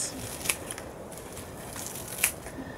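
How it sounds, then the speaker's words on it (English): Scissors snip baby lettuce leaves from a living salad pot, two quiet crisp cuts about two seconds apart against faint background, close and soft. "just cut my baby lettuce leaves"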